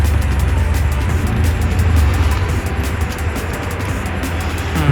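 A Bajaj auto rickshaw driving along a highway with a suspected meter cable fault, its engine droning low and steady under a broad rush of road and wind noise, close and continuous throughout.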